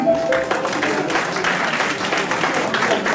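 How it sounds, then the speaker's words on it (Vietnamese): Audience applause at a Houston gathering, a steady dense wash of clapping heard throughout at moderate loudness. "Xin quý vị cho một tràng pháo tay cho anh Trần Hiến"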